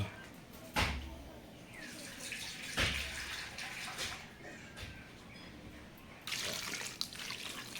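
Clean water from a river is poured into a cooking pot in a kitchen for ginataang isda, with several splashy gushes and a continuous trickling, bubbling flow at close range.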